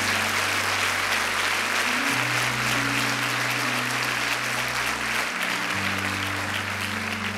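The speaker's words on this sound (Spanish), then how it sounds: "Vamos, fuerte ese aplauso al Señor." A church congregation claps together in a sustained, even round of applause that fills the room steadily throughout, with no break.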